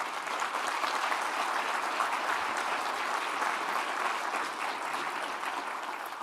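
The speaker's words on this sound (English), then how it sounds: "a round of applause for the huge effort that this has all taken" A sustained round of applause from the crowd at a city address rolls on evenly for several seconds, a broad, steady patter of many hands heard from a moderate distance.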